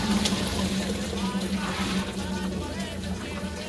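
Cooked pasta and water are poured into a colander in a home kitchen, giving a brief rushing, splashing pour that settles into trickling while someone speaks.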